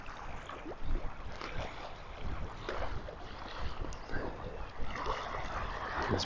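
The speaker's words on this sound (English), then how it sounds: "A little bit of wind, but not too windy." Light wind moves across the Orkney coast at dawn, a soft, steady rush with gentle gusts buffeting the microphone, low and continuous with no voices.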